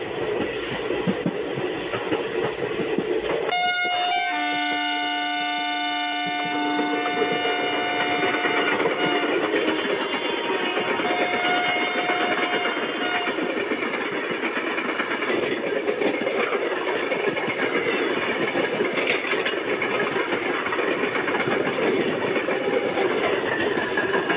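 Train horn in Railway Simulator India sounds a long, loud tonal blast with harmonics above steady rail rumble and clatter, as a late-running Intercity Express passes at night; the rolling noise continues after the horn fades.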